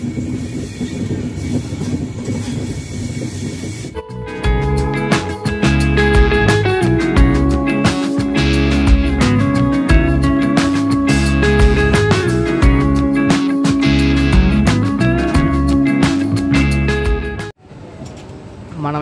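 Train running on rails near New Guntur station, loud rhythmic clickety-clack of wheels over rail joints with rattling carriage noise heard from on board, building after a quieter start and cutting off near the end.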